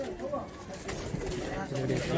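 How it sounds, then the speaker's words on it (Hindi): Pigeons nesting on eggs in a netted enclosure give soft low coos under ongoing nearby conversation, faint and brief. "बाकी अंडे पे बैठे हैं कबूतर"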